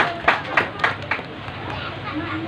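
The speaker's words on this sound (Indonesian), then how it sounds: "Tepuk tangan untuk GSD." Audience at an Indonesian launch ceremony for a rice ATM by BAZNAS Bekasi gives a brief round of applause, a few sharp claps rising over crowd murmur and then fading under background chatter.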